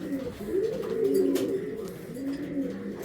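Racing pigeons coo in soft, rolling, throaty calls that rise and fall close by, with overlapping birds murmuring almost continuously in a loft.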